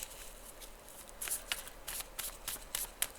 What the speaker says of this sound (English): And they're kind of weird to shuffle at first.